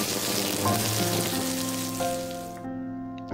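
Cumin seeds and sliced onion sizzle in hot oil in a pan, a bright steady hiss that fades away over a few seconds, leaving faint ringing tones.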